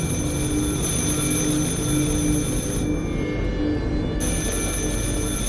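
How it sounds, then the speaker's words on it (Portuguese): A telephone rings loudly and steadily inside the Alien Cube video game, a continuous trilling bell with a brief break partway through, heard alone with no speech. "Tem um telefone tocando, velho."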